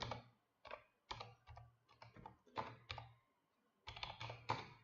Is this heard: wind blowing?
no